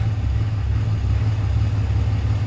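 The diesel engine of a Cummins dually pickup truck runs steadily while the truck is shifted into drive, giving a close, continuous low rumble with an even hum.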